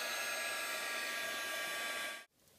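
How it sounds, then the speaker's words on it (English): A heat tool blows hot air to set white embossing powder on a stamped sentiment: a loud, steady, breathy whoosh that runs without a break, then stops abruptly near the end. "So now we're going to use our heat tool to heat emboss this sentiment."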